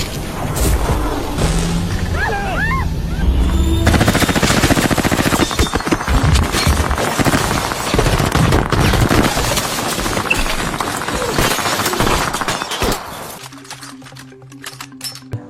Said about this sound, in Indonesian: Alhasil adegan baku tembak pun terjadi.